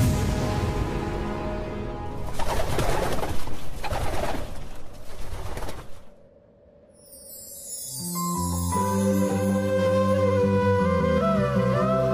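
A pigeon coos indoors, with soft repeated calls over a busy background that grows quiet, then music swells in for the final seconds.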